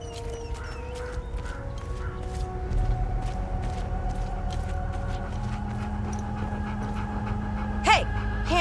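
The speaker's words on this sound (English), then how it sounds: "I found the poor pup whimpering." A dog pup pants in quick, soft breaths and lets out thin whimpers in the video game Hell Is Us, fairly close. A brief, higher whine near the end stands above a low, steady background hum.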